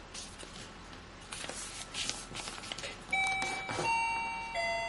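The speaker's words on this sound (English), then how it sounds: "That is my alarm clock." An electronic alarm clock begins beeping partway through, its tones ringing over paper rustling and handling noise from origami folding nearby.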